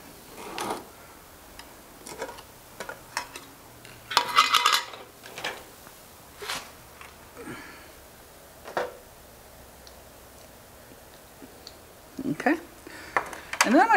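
A flat-bladed screwdriver prying around the lid of a metal paint can makes a series of sharp metallic clicks and scrapes, spaced irregularly, with a quicker cluster of pops near the end and a voice talking in between.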